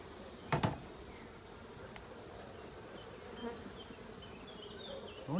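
A steady, low hum of many honeybees inside a hive fills the clip, a dense continuous drone with a couple of brief knocks near the start.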